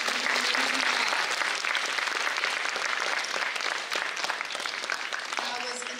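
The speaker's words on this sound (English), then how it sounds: "please give another huge round of applause to the amazing class" A large audience at a Bharatanatyam classical dance debut applauds the dance class loudly and continuously, a dense, close roar of clapping that stays full for the whole stretch.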